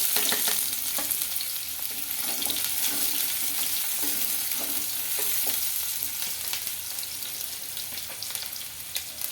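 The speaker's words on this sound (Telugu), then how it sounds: "ఆయిల్ అయితే హీట్ అయిందండి ఆనియన్స్ అయితే వేసుకుంటున్నాను" Continuous sizzle of onions frying in hot oil for chicken curry, with occasional stirring clatters and crackles, steady and close by, no voices.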